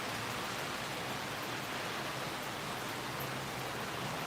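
Heavy rain teeming down during a thunderstorm, a dense, unbroken hiss of downpour that stays loud and constant throughout.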